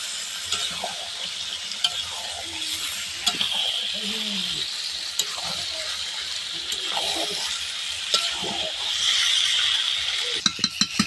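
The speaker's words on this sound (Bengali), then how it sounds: "মাংস আর আলু দিয়ে ঢাকা দিয়ে অনেকক্ষণ ধরে কষতে হবে।" Meat and potatoes sauté in a pan with a little water: a steady, bright sizzle runs throughout, with occasional clinks and scrapes of a stirring utensil and faint talk in the background.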